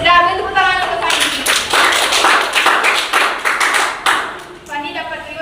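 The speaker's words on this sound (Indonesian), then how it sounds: "ambil tepuk tangan untuk Kandi." Children at an orphanage counseling session break into a dense burst of hand clapping lasting several seconds, loud and close, with an adult voice speaking before and after it.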